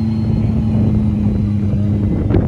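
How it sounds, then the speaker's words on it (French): An Aston Martin Vulcan supercar drives nearby with a steady, deep engine drone that holds loud and close, with a brief rise near the end. "je vous filme ça parce que voir une Vulcan rouler, je sais pas si je vais le voir souvent ça"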